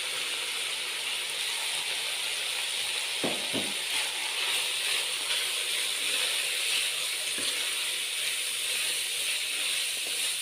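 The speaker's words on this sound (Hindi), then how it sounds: "तो हमने सिर्फ 1 से 2 मिनट के लिए इनको फ्राई करना है वेजिटेबल्स को।" Chopped vegetables fry in a pan with a constant bright hiss and sizzle, close and even, broken by a few soft clicks and taps from stirring.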